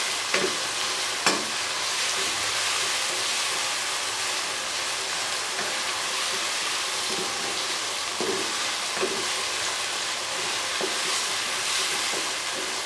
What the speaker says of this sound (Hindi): इसी तरह हम इसको तकरीबन 4-5 मिनट फ्राई करते रहेंगे।